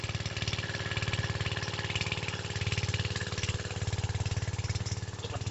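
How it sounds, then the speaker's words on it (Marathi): A diesel water pump engine runs steadily on a farm, its close, loud chugging idle pulsing in a fast even rhythm throughout with no voices. "पाणी साठवतोय आणि इंजिन चालू करतोय"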